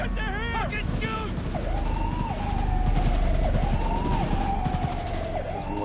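Gunfire in Cyberpunk 2077 crackles in dense, rapid bursts beneath a wailing police siren, loud and continuous, with people shouting over the chaos.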